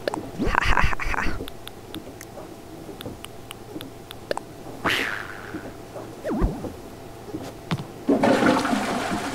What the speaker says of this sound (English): Ooh, that was a loud flush.